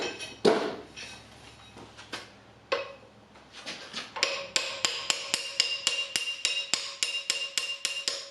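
A transmission hub being tapped onto its shaft splines through a big socket during a 10th gen Honda Civic Si gearbox rebuild: a few scattered metallic knocks, then a steady run of sharp, ringing hammer taps, close and clear.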